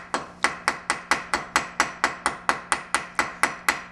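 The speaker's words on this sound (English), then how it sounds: "I like to use rapid blows" Rapid hammer blows forge a hot horseshoe on an anvil, about sixteen sharp metallic strikes in an even, quick rhythm, each ringing briefly before the next, close and fairly loud with no talking.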